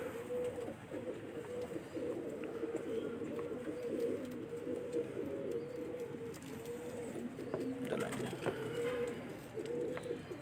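Pigeons cooing from a rooftop loft, with steady layered low coos that overlap continuously and a few faint chirps, moderately close.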